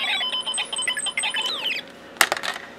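Electronic warbling and chirping tones from a Snap Circuits alarm IC, a rapid sweeping beep pattern, followed by a few sharp clicks and brief bursts.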